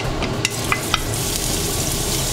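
Garlic sizzles in hot peanut and sesame oil in a wok over high heat, a steady loud frying hiss broken by a few sharp spits and pops, close up with no voices.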